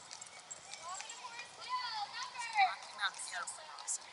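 Hooves of a gaited twelve-year-old chocolate Rocky Mountain Arab cross horse clop faintly in an uneven rhythm on a trail, mixed with nearby people chatting and a voice.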